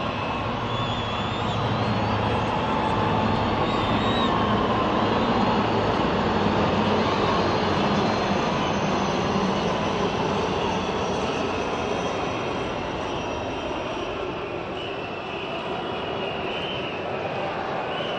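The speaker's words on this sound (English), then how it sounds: "if you look to the south, the Heritage Helicopter Formation, the Puma and the Alouette 3." A formation of Puma and Alouette 3 helicopters flies over at a South African presidential inauguration, a loud, continuous engine and rotor roar holding steady before easing slightly toward the end, with a public-address voice faintly beneath it.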